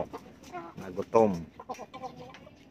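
Hens clucking in short bursts close by while eating mango, with a louder squawk partway through and people chatting under the birds.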